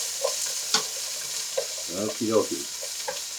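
Tofu stir-fried in a wok, tossed with two wooden paddles: a steady hiss of sizzling with a few sharp clacks and scrapes, close by, and a short spoken phrase partway through.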